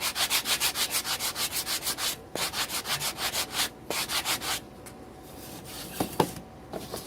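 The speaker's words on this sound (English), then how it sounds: "I'm just sanding off this little rough part." Rhythmic back-and-forth sanding strokes on wood, fast and steady at first, then slowing into scattered rubs and light knocks, close and fairly loud.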